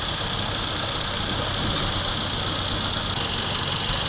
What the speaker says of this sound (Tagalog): Ito mga boss, kapaandar po natin itong makina na to.